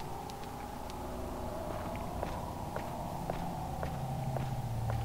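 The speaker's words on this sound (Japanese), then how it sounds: "今足音聞こえなかった？" Footsteps inside the video game Demento: a regular series of light, evenly spaced steps tapping along over a steady low background drone, with no talking.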